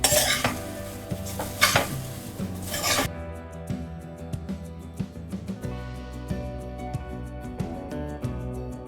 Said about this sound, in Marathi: आता हा थोडा वेळ मी अजून ढवळणार आहे.